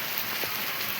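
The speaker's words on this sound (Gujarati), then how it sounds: "વરસાદ સરસ કોઈ આવે છે." Gentle monsoon rain falls steadily near a Kuberेshwar Mahadev temple, an even, continuous hiss of drops hitting surfaces with one brief soft thump, no voices.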